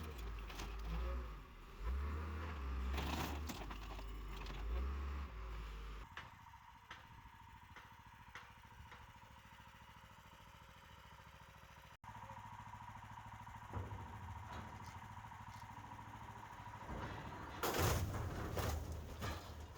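A homemade car crusher presses down on a car for a second time, a steady mechanical engine drone running throughout with low rumbling bursts early on and a loud surge near the end.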